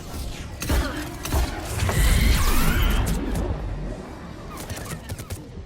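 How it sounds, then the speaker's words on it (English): A salvo of missiles launches in the video game Mass Effect 3: a dense, rumbling run of overlapping blasts and whooshes that swells in the middle, then trails off with scattered mechanical clatter. "Missiles away. Firing another salvo."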